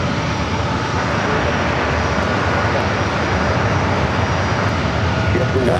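A 25-year-old Boeing 757-200 airliner, delivered in 1999, on final approach at San Diego airport, its engines giving a steady, loud broadband roar that holds evenly throughout without a break.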